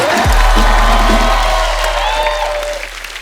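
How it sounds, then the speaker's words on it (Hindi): A television studio audience at a comedy talk show applauds and cheers loudly as a guest enters, with dense clapping and whoops over a swelling music sting that slowly fades. "तालियां जोरदार होनी चाहिए।"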